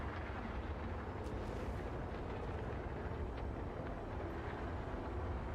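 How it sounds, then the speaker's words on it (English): Spaceship thrusters firing in Star Citizen, a continuous low rumbling roar with steady loudness and faint hissing bursts, no voices. "those thrusters are just firing for reasons"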